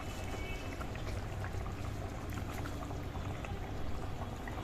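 A pot of liquid with turmeric and kohlrabi rolls at a steady boil, a dense continuous bubbling and seething at close range without pause and with no voices.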